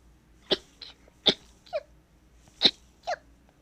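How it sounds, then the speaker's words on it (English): A single person sneezes nearby, with several short sharp bursts of breath and nasal sounds spaced irregularly against a quiet background. "I'm gonna sneeze."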